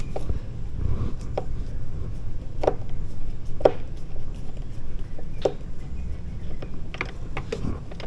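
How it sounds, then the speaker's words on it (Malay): Small screws are worked loose with Phillips and flathead screwdrivers on a Yamaha XMAX 250 V1 scooter, giving scattered close clicks and ratchety ticks over a low steady background hum. "Kita try buka semua skru dulu."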